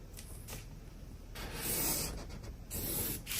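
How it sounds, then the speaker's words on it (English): A marker or chalk drawn along a ruler across fabric while drafting a wedding dress pattern, giving soft, close rubbing strokes in a few bursts, louder toward the end, with no talking. "I will rule a straight line."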